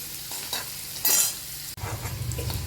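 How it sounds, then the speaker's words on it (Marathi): Sesame seeds roast in a hot pan beside dosa chutney, making a sizzling crackle with stirring scrapes and a brief louder burst of popping partway through. "कारण तीळ तडा तडा तडा उडायला लागलेले आहेत"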